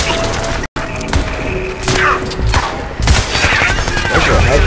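Dense rapid gunfire and blasts from the video game Crysis 3, loud and continuous with bursts and impacts layered together.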